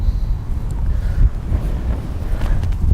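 Strong wind blows outdoors and buffets the microphone with a loud, continuous low rumble that lasts throughout.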